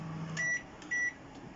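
A Dawlance DW 393 GSS microwave oven set to its pizza program gives two short, sharp electronic beeps over a low running hum, close by with no talk.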